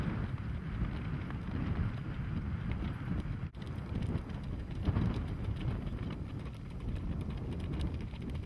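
Horses' hooves thud steadily around a show arena at an Akureyri sales exhibition, a continuous rolling clip-clop of several horses at mid distance with light wind and no voices.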